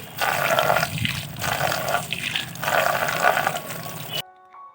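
Water splashing and pouring as pet birds are bathed in their cage, a steady wet rush broken by short pauses, close and fairly loud, ending abruptly.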